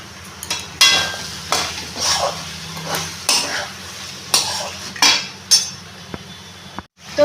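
A pan of fried chicken filling with mango pickle and soy sauce being stirred, the spoon scraping and clinking against the pan in a steady rhythm of about one stroke per second over a faint sizzle.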